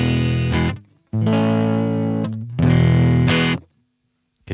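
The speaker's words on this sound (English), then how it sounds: "You can hear it adds a lot of that amp sound" An electric guitar played through the stock Ableton amp plugin rings out in three distorted chords with a thick, saturated amp sound, each sustained and then cut off by short silences, loud and up close.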